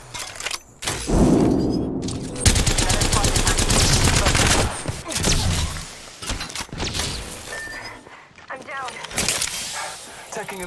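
Gunfire in an Apex Legends match: bursts of rapid automatic shots and weapon clatter mixed with game effects, loud and busy throughout, with a voice talking over parts of it.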